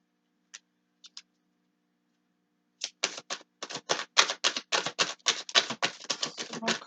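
Tarot cards shuffled and dealt: a few faint isolated flicks at first, then a dense run of quick papery riffling clicks, close and fairly loud, with no voice.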